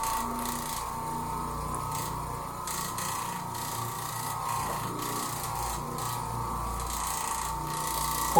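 An Oreck Orbiter orbital floor machine with a one-inch cloth bonnet pad scrubs old carpet, giving a steady, close, continuous motor drone with a rough rubbing, rasping texture throughout and no talk.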